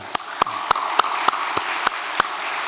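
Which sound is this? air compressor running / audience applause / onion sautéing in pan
audience applause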